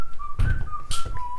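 Whistling in a video game: a clear, sustained melodic whistle with slight pitch wavering, fairly loud, with some thumps and background noise around it but no speech.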